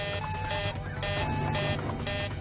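Two alarms sounding in an aircraft cockpit on flight 522, a loud electronic tone pulsing on and off in rapid repeated bursts with a steady rhythm.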